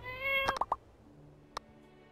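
Cat meowing in the video game My Time at Portia, three short, quick meows in a row followed a moment later by a single soft click, fairly quiet with no talk.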